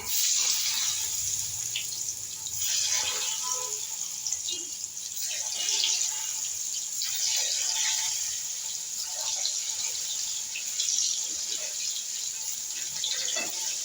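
Water pours and splashes steadily while cooking in a home kitchen, a continuous close running-water sound lasting throughout with faint clatter.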